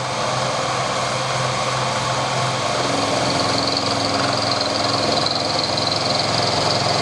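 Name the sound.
carbide milling cutter machining stainless steel bar dry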